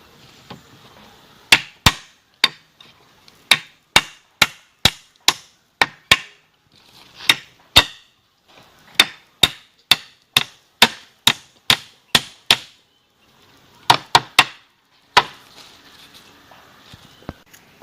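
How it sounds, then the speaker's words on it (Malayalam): Sharp hammer blows drive cut pieces of local wood onto a chair frame, landing in quick bursts of evenly spaced strikes separated by short pauses, loud and close. "നമ്മൾ നേരത്തെ മുറിച്ച പീസ് നമുക്ക് ഇവിടെ അടിച്ചു കൊടുക്കാം."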